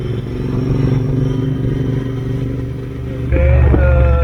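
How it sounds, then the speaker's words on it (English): A Benelli 600i motorcycle on a Sunday ride hums along with a steady engine drone and road rumble, then swells louder and deeper near the end as it accelerates, close and with no voices. "I mean, this is a Benelli 600i."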